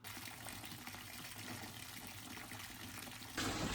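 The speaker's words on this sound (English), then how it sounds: "So we are going to fill that up with some water, stir it around" Tap water runs steadily into a bucket of aquarium sand for a lungfish tank, a continuous gushing fill that swells slightly louder and brighter at the very end, with no voices.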